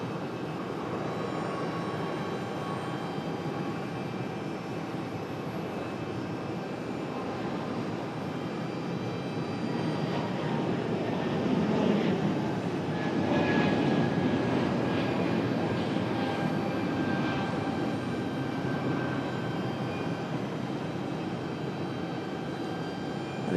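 A JetBlue Airbus A220 jet airliner takes off at Raleigh-Durham International Airport, its engine roar a steady broadband rumble that swells slightly toward the middle of the run, heard at some distance with no talk over it.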